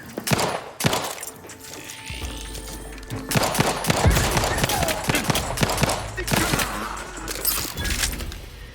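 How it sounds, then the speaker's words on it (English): Grenade blast and gunfire in The Outer Worlds 2 video game: a sharp loud explosion followed by a steady barrage of rapid shots and low rumbling combat noise, with no voice over it. "Grenade, away!"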